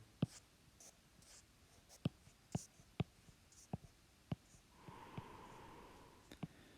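A pen sketches a cube on paper for a maths lesson, a series of short close taps and strokes with a longer scratchy line near the end, quiet and without speech.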